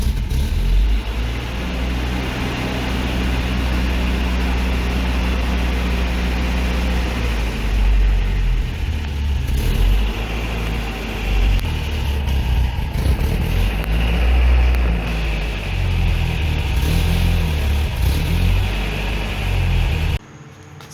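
A 1987 Toyota 4Runner's rebuilt 22RE engine runs steadily during a clutch test, a loud continuous idle rumble with slight swells in revs, then cuts off abruptly near the end.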